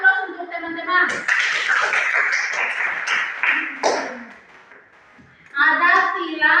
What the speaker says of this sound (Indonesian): Ya, aplaus untuk teman-teman.